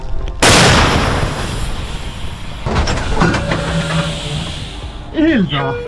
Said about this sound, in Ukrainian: Калібр акації доволі серйозний 152 мм.